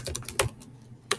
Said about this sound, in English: here I'm just going to type in